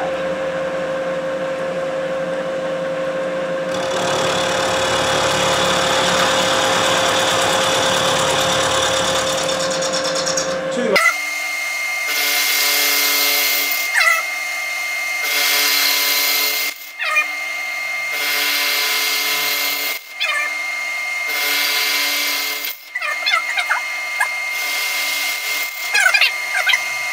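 Metal lathe cutting 1 mm passes on a workpiece held in a collet chuck: a steady machine hum with a tonal whine, then brighter, louder cutting bursts that start and stop repeatedly, up close with no talk.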